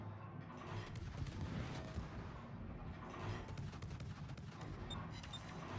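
Naval guns in World of Warships firing at a Yugumo destroyer, a series of muffled booming shots and rumbling blasts layered over one another, moderately loud against a constant low game background.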